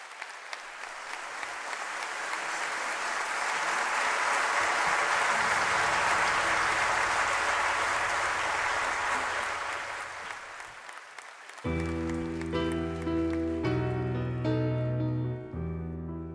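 A concert audience at a live world music festival gives a loud, sustained round of applause for a visiting singer, swelling and holding for about ten seconds before music begins.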